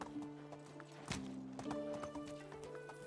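Hooves clip-clop on the ground while a horse whinnies nearby in Medieval Dynasty, a medieval village survival game, the footfalls tapping steadily under layered game ambience.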